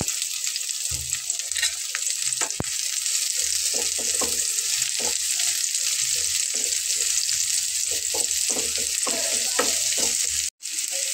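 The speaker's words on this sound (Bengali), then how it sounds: "তো দেখুন এইভাবে পেঁয়াজটাকে আমি ভেজে নেব এক সাইড করে।" Onion frying in a pan gives a steady, dense sizzle with occasional soft stirring taps and low thumps, heard close with no voices and a brief drop near the end.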